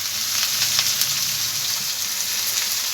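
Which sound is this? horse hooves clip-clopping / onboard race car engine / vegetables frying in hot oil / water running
vegetables frying in hot oil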